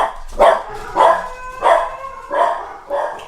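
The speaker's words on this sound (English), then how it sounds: "Something must be at the window. Our dogs are going nuts right now." Several dogs bark at a window in repeated loud, evenly spaced bursts, about five barks in quick succession, close by with no talking.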